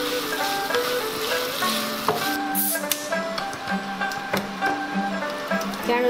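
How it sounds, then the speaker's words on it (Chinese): Ginger slices crackle and sizzle in hot oil in a wok, with light stirring clatter. The moderate frying sound runs beneath a steady layer of background music. "把姜片放进去爆香。"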